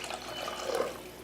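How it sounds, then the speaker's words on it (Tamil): Water being poured into tamarind rasam as it cooks for a Diwali non-veg lunch, a soft continuous trickle and splash, fairly faint, with no voices. "புளிப்பு எப்படி இருக்குன்னு பார்த்துட்டு தண்ணி கொஞ்சம் சேர்த்தாச்சு."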